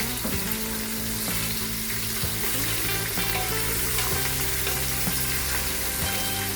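Onions and green chillies frying in hot oil for biryani, a loud continuous sizzle with occasional stirring knocks, close up and without voices.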